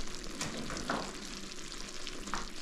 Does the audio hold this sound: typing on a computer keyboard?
no